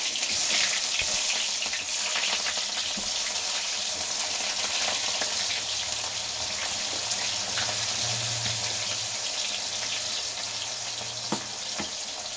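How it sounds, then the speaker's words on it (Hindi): Cumin seeds and onion hitting hot oil, a loud continuous hiss and crackle of frying that holds steady throughout, close up with no voices. "चलिए ऑयल गर्म हो गया है डालते हैं इसमें जीरा साथ में डालूंगी प्याज"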